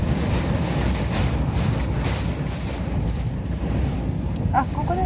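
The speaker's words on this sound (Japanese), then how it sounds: "これ全部波。 これ波だ。 うわこれ波だ。" Rough ocean waves crash and roar under strong wind during Typhoon No. 9 at Yonaguni Island, with a constant loud wash of surf and wind buffeting the microphone.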